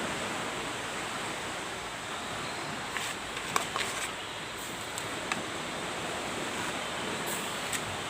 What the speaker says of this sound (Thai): หลังจากเราต้มไปพักหนึ่งแล้ว เปิดดูกัน น่าเดือดแล้วพี่น้อง